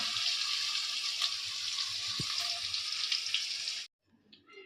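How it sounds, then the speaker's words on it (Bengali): Potatoes fry in hot oil with salt and turmeric, a dense steady hiss with faint crackles close by, then the sizzle cuts off abruptly into near silence with a few small clinks. "তো আলুগুলো একটু ভাজা হোক"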